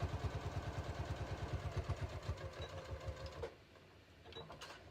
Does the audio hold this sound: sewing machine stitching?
yes